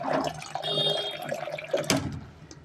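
Water pours into a pressure cooker holding soaked chickpeas and peas, a close, splashing gush that swells, fades and ends in trickles and a clatter.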